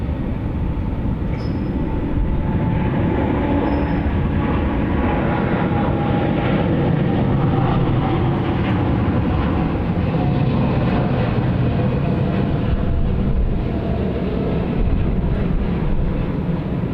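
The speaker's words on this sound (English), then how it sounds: "Lovely long takeoff roll there from the 73." A Boeing 737 airliner on a long takeoff roll at Sydney Airport, a steady, loud broadband engine roar that holds constant throughout with no talk.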